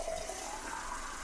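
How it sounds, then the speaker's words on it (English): Tap water runs steadily into a spray bottle, a close, continuous hissing splash with no pauses and no talk. "Fill it up with some water."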